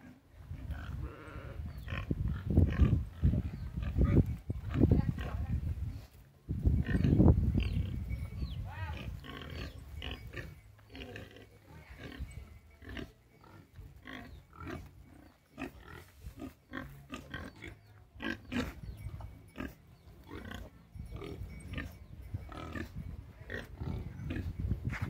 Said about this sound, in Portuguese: Vou mostrar aqui um pouco os porquinhos novos que tem.